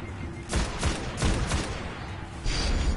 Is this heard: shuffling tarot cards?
no